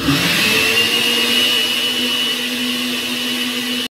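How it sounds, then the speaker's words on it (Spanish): A blender whirs steadily at high speed blending corn kernels, a constant motor drone with a slight whine holding for the whole stretch, alone and fairly close. "poco a poco vamos a ir incorporando los granos de choclo"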